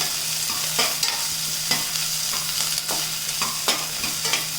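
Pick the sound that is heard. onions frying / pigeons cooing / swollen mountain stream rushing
onions frying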